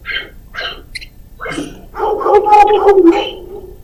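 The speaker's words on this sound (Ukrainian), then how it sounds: "Так, це собачка. Вона гавкає." A few short dog barks and yips, close by, followed by a longer rough, growly stretch of noise.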